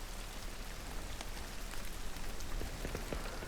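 Steady rainfall in the video game Hunt: Showdown, a dense even hiss of drops on surfaces with scattered closer patters, continuous and with no voices.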